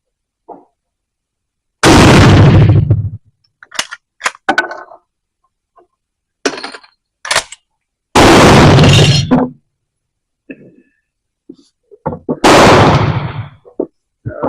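Three loud, sharp rifle reports from an 1886 Mannlicher, spaced several seconds apart, with quieter metallic clicks and clacks of the straight-pull action and en-bloc clip between shots.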